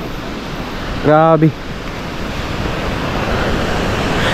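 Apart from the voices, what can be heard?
sea waves by the shore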